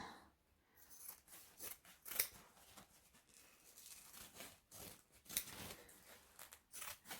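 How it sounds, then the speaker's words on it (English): Vinyl cutting scissors slicing through bag-making material and interfacing for a medium travel bag, with repeated snipping and crisp cutting strokes at close range, quiet and alone. "I'm using my vinyl cutting scissors."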